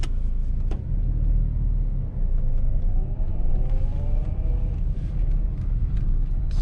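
A car is driven slowly and steered through a turn during a driving lesson, with a steady low engine rumble, faint tonal whine and small clicks throughout, heard close from inside and with no talking.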